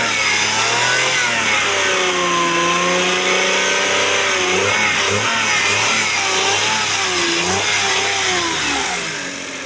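A repaired car engine with an electronic throttle body runs and revs repeatedly, its pitch rising and falling in loud, close swells over a steady idle with no talking.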